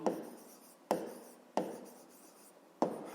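Handwriting of a math equation for a fifth-grade exercise, four distinct scratchy strokes, each starting sharply and fading, close and fairly quiet, with no talking.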